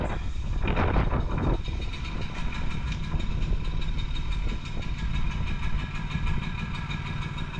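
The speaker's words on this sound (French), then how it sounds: "vous entendez le ralenti du moteur qui est très très bas" A low, rumbling Honda generator engine idles steadily at a very slow speed, its idle set too low to produce enough current, with a few brief clanks near the start.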